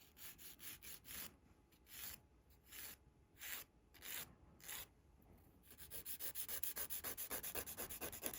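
Acrylic nails worked with a hand nail file at home, heard as rhythmic scratchy rasping strokes, first slow and spaced, then quicker short strokes close to the mic with no talking.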